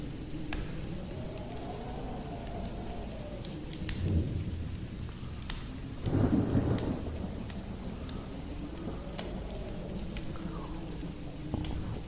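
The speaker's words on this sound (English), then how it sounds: "There's like a stormy weather outside" A thunderstorm rages outside, with steady rain hissing throughout and low thunder rumbling in two swells, no voices.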